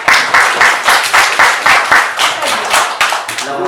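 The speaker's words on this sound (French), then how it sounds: "Applaudissez Nadir." Schoolchildren clap together for a classmate in loud, rhythmic bursts that land in near unison about three times a second, with no talk over them.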